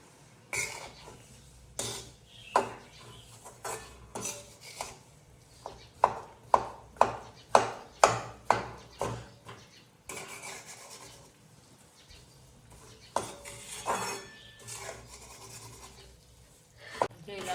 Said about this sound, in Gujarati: હવે આપણે એમાં ગોળ નાખી દઈશું। આવી રીતે હલવી નાખશું।